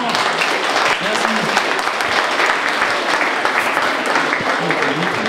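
A big thunderous round of audience applause at a French debate contest show, dense and loud clapping sustained evenly throughout, with some crowd voices and cheers mixed underneath.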